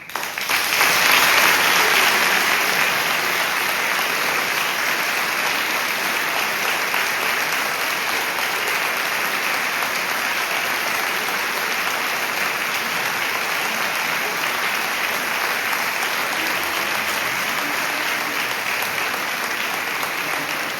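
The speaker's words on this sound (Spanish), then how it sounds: "pidamos un forte aplauso repetido para" Sustained audience applause after a choir and chamber group concert, loud and dense with many hands clapping, swelling at the start then holding steady without letting up.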